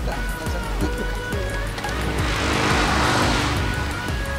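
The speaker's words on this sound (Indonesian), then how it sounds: "Dengan kemurahan hati Aji kita nyobain mobil barunya Aji." A new car being driven, its engine and road noise forming a steady broadband rumble with a swell of wind-like hiss midway; no talk is heard.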